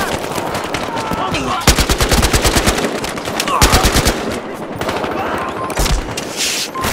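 Bursts of rapid machine gun fire in a Battlefield Hardline firefight, loud and close, several sustained volleys broken by short pauses, mixed with scattered gunshots and shouting voices.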